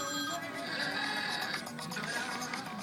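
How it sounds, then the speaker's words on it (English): An iPhone ringtone plays faintly, its tinkling, marimba-like repeating notes coming through somewhat thin and muffled, as if heard over a call, with a soft steady background beneath. "That's a good ringtone."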